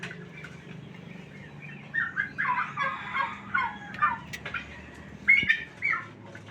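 A turkey gobbles nearby in several short, rattling bursts, the calls repeating over a few seconds against a quiet background with no talking.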